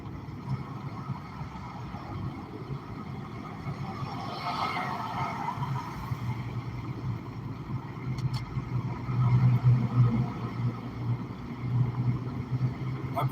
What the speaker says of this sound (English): See how long it took this car to pick up?